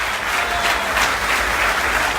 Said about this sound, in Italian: fategli un applauso anche più forte